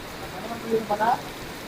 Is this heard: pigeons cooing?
no